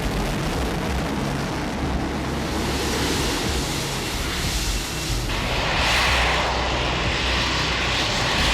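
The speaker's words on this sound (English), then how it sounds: "the jet goes from a hovering beast to a screaming war machine" A US AV-8B Harrier II jump jet takes off from a ship's deck, its engine roaring continuously with broad, rushing noise that swells louder partway through.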